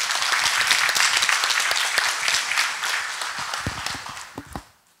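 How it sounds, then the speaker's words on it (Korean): Audience applause welcoming a lecturer at a Christian worldview talk, a crowd clapping briskly and fairly loud for about four seconds before tapering off into a few scattered claps and silence. "우리 박수로 환영하겠습니다."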